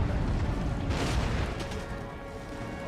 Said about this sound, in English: my cannons can definitely start firing here